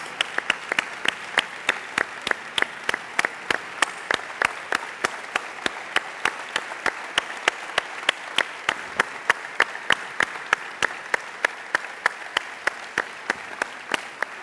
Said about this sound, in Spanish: could we, through our applause, communicate our gratefulness to these men